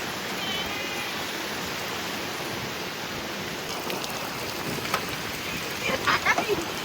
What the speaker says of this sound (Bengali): প্রচুর জোরে বৃষ্টি চলে এসছে